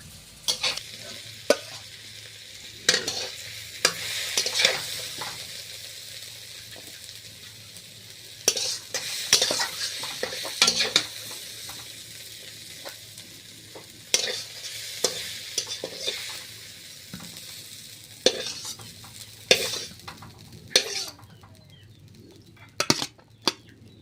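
Food sizzles steadily as it fries in a pan, with repeated sharp scrapes and clatters from stirring and turning the pieces at irregular intervals throughout.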